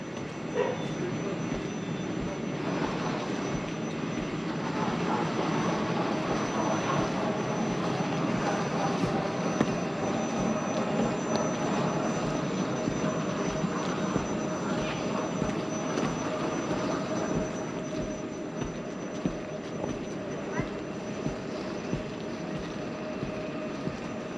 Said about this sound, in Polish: Pociąg jedzie do Kielc